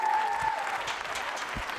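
Audience applause after a musical performance, a dense patter of clapping hands from a moderate distance, steady and fairly soft, with a brief tonal sound near the start.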